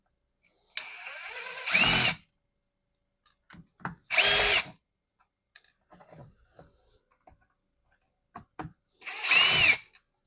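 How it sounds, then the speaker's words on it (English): A power driver fitted with a Torx T10 bit backs out screws in three short, loud whirring bursts, separated by quiet handling clicks and taps, close up. "I think it's going to be it's on this bit here, little T10, Torx 10 bit here to get these off."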